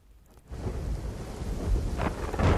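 Heavy monsoon rain pours down with low rolling thunder, a steady dense roar that swells louder over a few seconds, with no voices.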